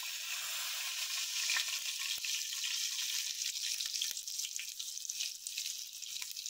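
Rava-coated mackerel (bangda) frying in a pan as it gets flipped, a steady bright oily sizzle with a couple of soft thuds, close and continuous, no talking.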